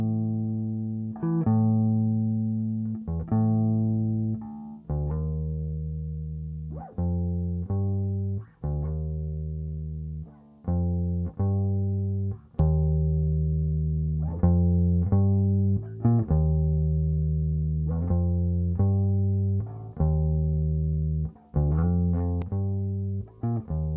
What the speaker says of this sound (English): let's hear the bass without the little bit of low frequency boost or the LA10 compressor